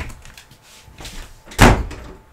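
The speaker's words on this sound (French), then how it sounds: "Je vais fermer la porte parce qu'il y a du vent et elle claque la porte." An indoor door bangs shut in the wind with a single loud, close thud after some quieter knocks and rattles. Nobody speaks.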